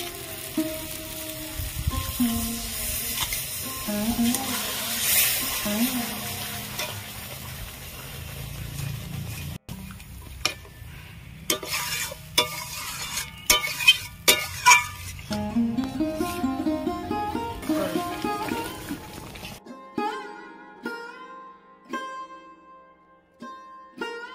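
Prawn malai curry gravy with coconut simmering in a pan, steady sizzling and bubbling with stirring and utensil clinks, loud and close, no talking.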